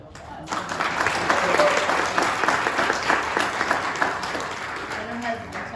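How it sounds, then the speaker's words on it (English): An audience at a women's conference breaks into applause, dense loud clapping that swells quickly, holds steady for several seconds and then gradually thins out. "I think we need to give her a big round of applause."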